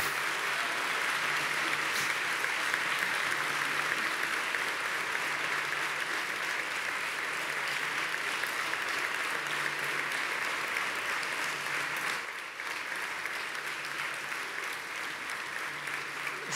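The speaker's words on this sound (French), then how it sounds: "Je crois que c'est des applaudissements très mérités." An audience applauds at the end of a talk at a French tree festival, dense continuous clapping that holds steady for about sixteen seconds with a brief dip near the end.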